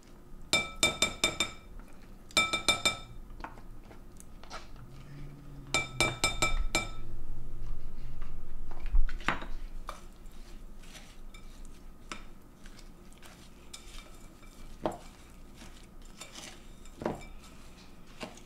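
Cream cheese pie filling for a Butterfinger pie mixed in a glass bowl, with bursts of rapid clinking and scraping from a utensil against glass, then scattered single taps and knocks in a quiet kitchen.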